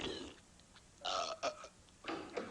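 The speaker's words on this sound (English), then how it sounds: "are you burping again?" A cartoon character in a Simpsons short lets out a series of loud, exaggerated belches, three separate gurgling bursts with short gaps between them, with no talking over them.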